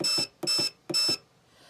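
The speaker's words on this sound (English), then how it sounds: "So we're gonna do the oven timer." An oven timer beeps as it is set, three evenly spaced bursts of sharp electronic beeping, each made of a quick double tone, loud and close with silence between and no talking.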